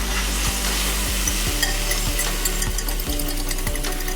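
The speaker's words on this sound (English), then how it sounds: "let's go ahead and dump it in the skillet" Beaten egg omelet mixture cooks in a hot skillet, a steady close sizzle and crackle with a low background hum and occasional faint scraping.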